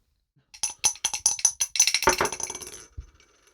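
A die clatters across a hard surface in a quick run of sharp clicks and rattles that slow and fade out over about two seconds, close and alone.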